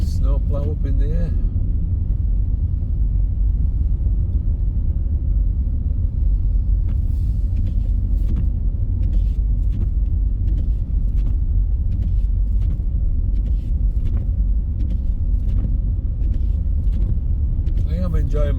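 A car drives toward Leeds on snowy roads on a Sunday morning after overnight snowfall, giving a steady loud interior rumble of engine and tyres throughout, with someone talking over it.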